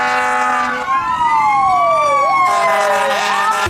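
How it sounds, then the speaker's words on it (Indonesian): A toy fire truck's electronic siren plays loud and close, its pitch sweeping up and down in a wailing pattern with a short pause between cycles. "Mobil pemadam kebakaran."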